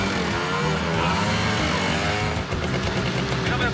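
A motorcycle engine runs loud and close, a steady rough drone with rising pitch as it accelerates and a brief dip midway before it picks up again.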